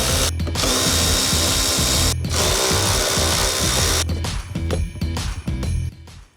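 A power tool whirs in long, loud bursts with short pauses between them, backing out 10mm bolts from a Mazda 2 battery tray, and the last burst stutters as it ratchets.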